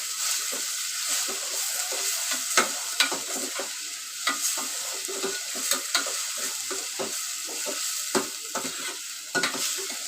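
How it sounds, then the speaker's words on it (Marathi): Chopped onion, ginger and garlic sizzle in a hot pan while a spoon stirs them, giving a steady soft frying hiss broken by frequent scraping clicks and taps, close up with no talking. "हे बघा कांदा आणि आला लसून फ्रेश केला टाकलं याच्यात मी बघा कांदा भाजतोय"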